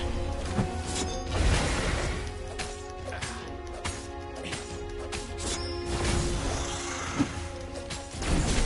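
Objects smash and crash in the video game Stories: The Path of Destinies, with repeated impacts and breaking debris over a busy backdrop of game sound and music.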